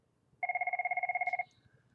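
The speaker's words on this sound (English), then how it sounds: "Sorry, my phone is ringing." A phone ringing during a lesson recording, one clear electronic trill of rapid warbling pulses lasting about a second, fairly loud over a quiet room, then cut off.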